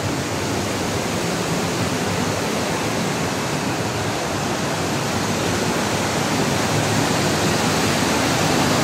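Water rushes loudly and continuously at Wawa Dam, a dense roar with no letup, like a torrent pouring over a spillway.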